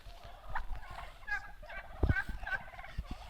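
Turkeys gobble in rapid, warbling bursts at moderate distance, several calls overlapping, with a few low thumps.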